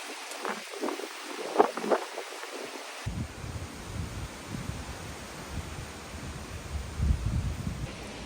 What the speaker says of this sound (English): It is crazy windy today.